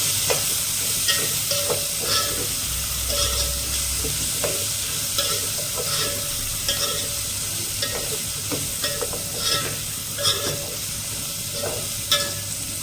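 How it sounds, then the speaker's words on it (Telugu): Broad beans curry fries in oil in a pan with a constant close sizzle, while a spoon stirs and scrapes with soft repeated knocks throughout. "చిక్కుడుకాయలు బాగా మగ్గిపోయింది, బాగా నూనె వేయదు."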